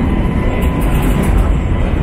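Subway train in Istanbul moving along the track, a loud steady rumble with rolling low mechanical noise close by and no talking.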